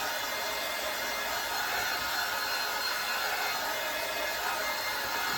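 A hair dryer blows steadily on chalk paste over a kitchen-herbs craft project, a continuous close whooshing hiss that holds at an even level throughout with no talking.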